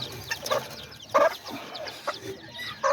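A mother hen clucks softly near her tiny newly hatched chicks, with short repeated calls and faint cheeps rising over a quiet background, close by and moderately loud.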